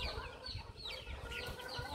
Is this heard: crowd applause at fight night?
no